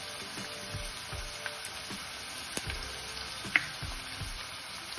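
Chopped onion and carrot frying in oil in a pan over a medium-low flame, a soft continuous sizzle with occasional faint pops and stirring clicks, no voices.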